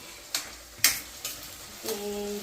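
Onions sautéing in a pan until golden, a soft steady sizzle broken by a few sharp scrapes and clatters of a spoon, followed by a brief tonal hum near the end.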